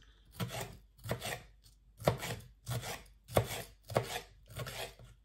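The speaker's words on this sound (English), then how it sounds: "So what I'm going to do is just cut this into strips." A knife slices a pepper into strips on a cutting board, seven evenly spaced chops with a crisp skin-splitting crunch and board knock, close up and alone in a quiet kitchen.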